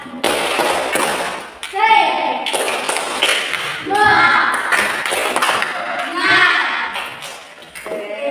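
A school class performs the tepuk semangat clapping chant, bursts of rhythmic group clapping interleaved with chanted voices, loud and close, repeating in short phrases throughout.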